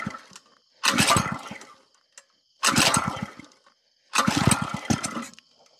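A 2.5 hp Lifan small engine running on 99% isopropyl alcohol is pulled three times, each pull a loud sputtering burst of chugging firing pulses lasting about a second before dying back to quiet.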